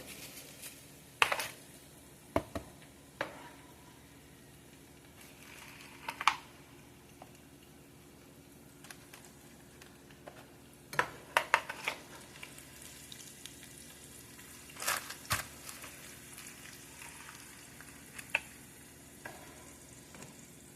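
Potatoes and onions fry in a pan with a faint continuous sizzle. Sharp clicks and scrapes of stirring break in at irregular moments, close but quiet, with no talking.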